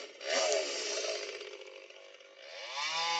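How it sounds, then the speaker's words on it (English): A chainsaw sound effect blares over a high school baseball game's PA system after a strikeout, a loud revving buzz with a sharp rise and a wavering, sustained engine whine that fades back at the end. "the chainsaw music back there every time he strikes out someone"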